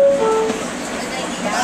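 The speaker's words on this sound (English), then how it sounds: "This is a Jamaica 179th Street bound F Express train." A New York City F Express subway train bound for Jamaica–179th Street rumbles loudly with brief tonal squeals, while a voice speaks over it.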